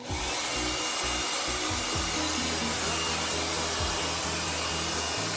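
A hair dryer blasts air at the roots during a bouncy blow dry of fine hair, with a round brush lifting the hair. A loud, steady, unbroken whoosh runs throughout, near and alone, with no talking.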